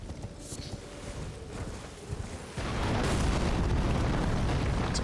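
A blast in Elden Ring in Limgrave at night: a short crack early on, then a loud, sustained roaring rumble that swells and holds to the end.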